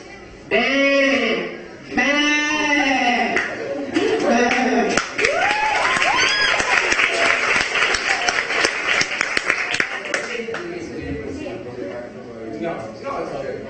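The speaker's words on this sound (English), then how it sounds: "You walk down the farm, you see some sheep." Sheep bleat several times, loud and close, in quavering calls on a farm, followed by clapping and crowd noise with voices mixed in.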